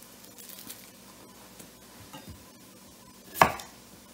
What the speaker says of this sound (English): So it says I need to chop a small onion, which I'm going to do